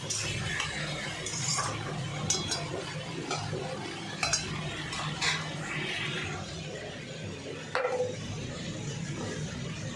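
Potatoes are stirred in hot oil in a pan, with a steady low sizzle running underneath while a spoon scrapes and clinks against the pan in irregular strokes, close and moderately quiet, with no talking.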